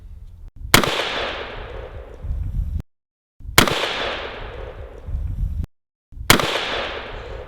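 AK47 rifle shots hit an armored vehicle window on a test range, three sharp, loud cracks spaced a few seconds apart, each followed by a lingering rumbling decay.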